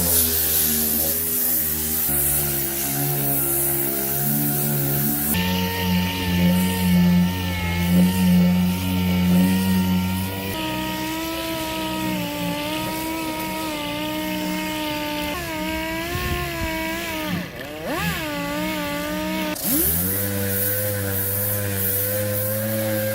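A power sander with 80-grit paper works the stepside bed of an 88-98 GMC/Chevy C/K 1500 pickup. The motor whines steadily and loudly up close, its pitch shifting under load, with a brief dip and surge near the end.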